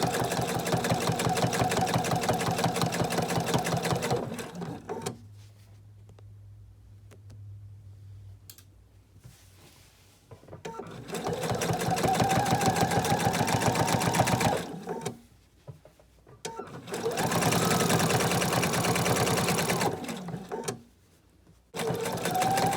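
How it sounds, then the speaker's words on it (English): A sewing machine stitches plush minky microfiber fabric in several loud, fast, steady runs with a rapid mechanical whir, separated by quiet pauses as the needle stops and the fabric pivots. "I'm going to do a fixed stitch and needle stop down."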